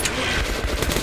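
Rapid automatic gunfire from a first-person shooter set in Metro 2033 Redux, a dense continuous rattle of shots under a busy, loud game mix with no talking.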